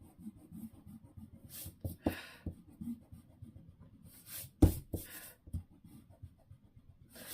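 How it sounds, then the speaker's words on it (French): Pencil marks being erased with an eraser on paper, a rapid scrubbing rub with short bursts and brief pauses, close and fairly quiet with no talking. "Donc on gomme."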